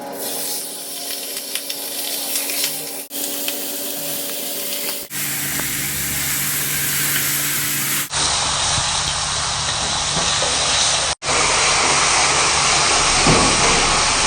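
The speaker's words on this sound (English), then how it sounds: "you want to hear that sizzle" Loud, continuous sizzling hiss from meat frying in a hot, smoking pan for carnitas, with a few abrupt breaks where the sound cuts and resumes.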